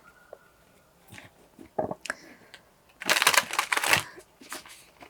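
Tarot cards being shuffled by hand, with scattered papery rustles and slaps building into a louder burst of riffling and crinkling at close range, then tapering off.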